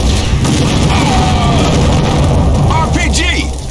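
An explosion goes off in the video game Without Warning, a loud, sustained booming roar that fills the whole moment while voices shout over it.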